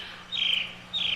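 Birds chirping in a staging of the musical Into the Woods: two short, high, thin calls, the second following after a brief pause, faint over quiet background hum.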